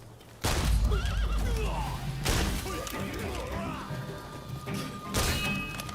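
A horse neighs loudly in Rise of the Ronin, a whinny mixed with hoof clatter, thuds and crashes of a chaotic fight.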